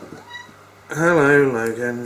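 A pet cat, a male, meows loudly and close by with a drawn-out, wavering cry after someone speaks a short greeting to it.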